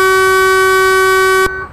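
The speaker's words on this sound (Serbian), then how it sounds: "Da čujemo sirenu." A Renault truck's air horn in Euro Truck Simulator 2 sounds as one long, loud, steady tonal blast with rich harmonics, held for about a second and a half before cutting off abruptly.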